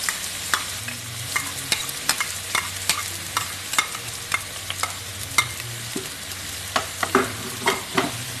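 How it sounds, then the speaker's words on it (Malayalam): Ginger and garlic fry in a pan for a prawn roast, a steady low sizzle with regular sharp clinks of a spoon stirring against the pan throughout. "പിന്നെ ഇഞ്ചി വെളുത്തുള്ളി ഇട്ട് കൊടുക്കാം."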